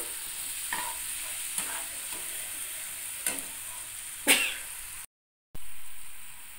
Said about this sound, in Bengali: এবার সামান্য পরিমাণে কষিয়ে নিতে হবে খুবই অল্প সময়ের জন্য